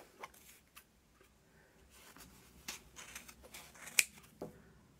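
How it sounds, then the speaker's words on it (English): Scissors snipping through yarn loops while cutting a pompom for a kitty cat craft, a few quiet scattered clicks and crisp snips with one sharper cut near the end. "I put my scissors in between the two"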